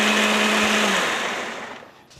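A hand blender grinding ginger and galangal scraps into a cooking broth whirs loud and steady at close range, then drops away and fades out toward the end, with no talking.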